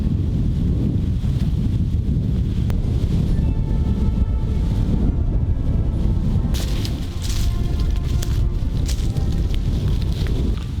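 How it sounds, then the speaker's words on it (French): Strong wind blows outdoors in a continuous loud roar, buffeting the microphone with rumbling gusts and no pause. "Il y a beaucoup de vent!"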